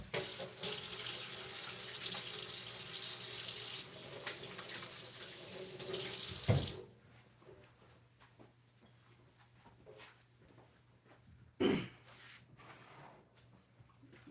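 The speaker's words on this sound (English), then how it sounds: "Wash my hands." A kitchen faucet runs steadily into a sink for handwashing for about seven seconds, then shuts off, followed by quieter room sounds and a brief clunk.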